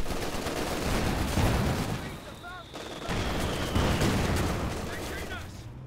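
Machine gun and other gunfire crackle through a battle in the real-time strategy game Company of Heroes 2, dense and continuous over a rumbling backdrop, with a commentator talking over it.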